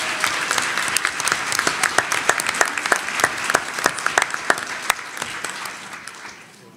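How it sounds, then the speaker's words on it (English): An audience at a school committee meeting claps for student award winners, a steady patter of many hands that fades out toward the end. "Let's give them another round of applause."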